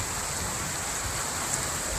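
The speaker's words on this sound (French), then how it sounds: "Un gros déluge." Heavy downpour during a thunderstorm near Lyon, a steady dense hiss of rain with wind, continuous and even throughout, no voices.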